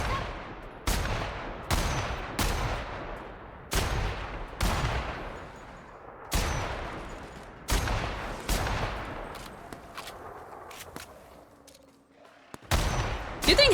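Gunfire in a Bethesda-style video game: about a dozen sharp, loud shots fired one at a time at a steady rhythm, each ringing out with a decaying tail, followed by a brief lull and then more shots.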